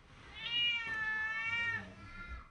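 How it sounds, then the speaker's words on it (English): A frightened family cat gives one long, drawn-out meow, clear and close, with a quiet room behind it. "The family cat was the only one in the house who escaped injury."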